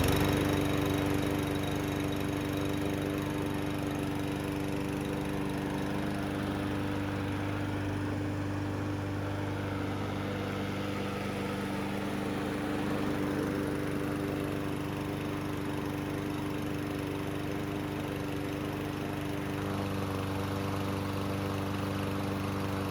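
A Troy-Bilt self-propelled lawn mower engine runs steadily and loudly with no break, holding a constant droning pitch from beginning to end.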